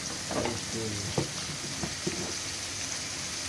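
Onions and green chillies frying in a pan, sizzling steadily as they turn golden for a Telangana-style fish stew, with a few soft clinks and stirs near and loud, no talk.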